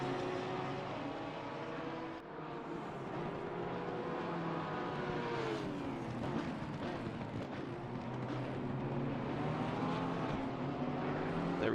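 Race cars, including a Porsche, lapping Laguna Seca in a racing video game make continuous engine roar with rising and falling pitch as cars shift and pass, loud and unbroken throughout.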